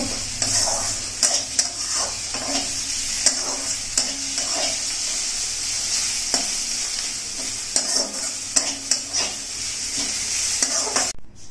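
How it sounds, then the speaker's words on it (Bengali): A spoon stirs bitter cumin leaves and potato frying in a pan, with a constant sizzle under repeated scraping and tapping against the pan at an irregular, close rhythm. "এবার গ্যাসের ফ্লেমটাকে একটু বাড়িয়ে দেব, সামান্য একটু নাড়াচাড়া করব।"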